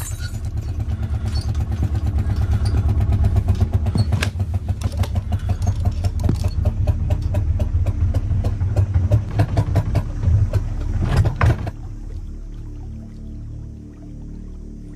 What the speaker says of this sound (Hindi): इंजन खराब हो गया